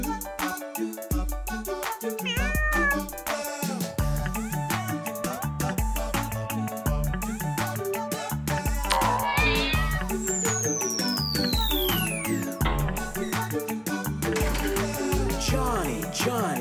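Cartoon stray cats meow repeatedly over busy, bouncy children's music, with long sliding cries rising above the backing track.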